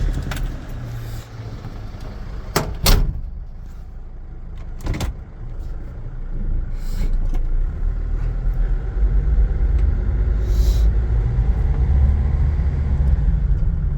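A 2004 Dodge Sprinter 2500 van is handled with a few sharp clicks and clunks, then the engine starts and settles into a steady, continuous idle rumble for the rest of the clip.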